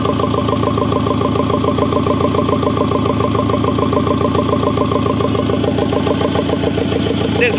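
Fiat Ducato van engine idling after repair, with a new belt and a fixed high-pressure pump: a steady, close, loud mechanical clatter with an even rhythmic pulse throughout, no talking.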